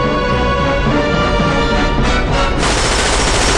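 A cartoon gun fires in a rapid loud burst of shots, dense and continuous, with a sharper, brighter crack toward the end and no talking.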